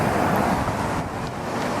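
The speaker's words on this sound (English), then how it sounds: "Beautiful ocean," Ocean surf and wind at a shoreline beside a factory, a continuous rough wash of breaking waves with gusty wind noise buffeting the microphone and no talking.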